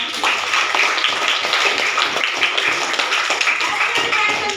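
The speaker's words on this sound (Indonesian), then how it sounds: "Tepuk tangan dulu buat kelompok satu." An audience claps for a group of presenters at a teaching performance test session, a dense, steady patter of many hands lasting throughout at moderate loudness.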